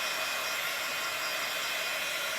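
Heat gun blowing over fresh paint on a junk-shop project: a steady, close, broadband hiss-roar of rushing hot air, constant and unbroken with no voices.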